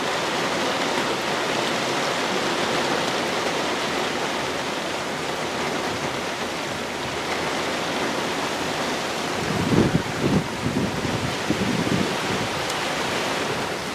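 Heavy, blustery wind from Hurricane Irma in Florida roars as a steady, loud broadband rush throughout, with a few low gusty buffets near the end and no voices.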